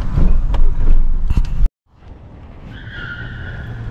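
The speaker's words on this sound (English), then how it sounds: "how is he gonna drift a Honda CRV that's all-wheel drive?" A manual, all-wheel-drive Honda CR-V drifts with a loud, rough tire skid lasting about a second and a half. It cuts off abruptly, leaving a quieter engine hum with a faint steady whine.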